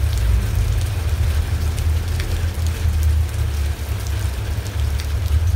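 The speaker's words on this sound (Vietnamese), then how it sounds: "có những cơn mưa rào hay là những cơn mưa nặng hạt như thế này" Heavy rain pours steadily in California, a dense continuous hiss with a deep rumbling low end, loud and close throughout with no voices.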